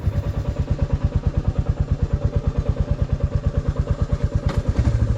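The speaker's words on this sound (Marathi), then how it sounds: "बाईक कोल्ड स्टार्ट केलेली होती आणि आपण निघालो आहे" Motorcycle engine running after a cold start, a close, loud, rapid rhythmic thumping exhaust beat that holds steady and swells slightly as the bike rides off.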